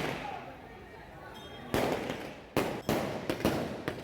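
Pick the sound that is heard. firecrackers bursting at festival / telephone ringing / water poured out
firecrackers bursting at festival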